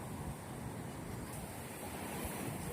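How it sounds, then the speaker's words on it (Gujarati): Ocean surf at Visakhapatnam rolls in a continuous broad roar, waves washing steadily with some wind noise, fairly faint and distant-sounding. "કેટલા મોટા મોટા મોજા આવે છે"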